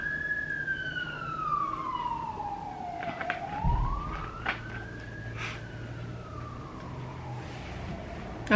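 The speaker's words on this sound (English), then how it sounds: "And here comes an ambulance." An ambulance siren wails, sweeping slowly down and up in pitch, moderately distant, over low traffic rumble, its tone rising again before fading off.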